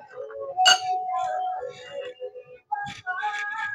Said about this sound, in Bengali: দেন আমি আবার কিছুক্ষণ মিশিয়ে নিই, চামচ দিয়ে ভালো করে মেল্ট করে নিই।